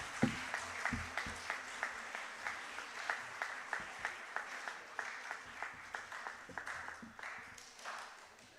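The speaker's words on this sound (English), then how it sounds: "Can we have a huge round of applause for your faculty members?" Faint, distant audience applause at a medical conference at Dr. S. S. Tantia Medical College, with rhythmic, steady clapping that continues evenly throughout, a bit muffled, with a low murmur of voices underneath.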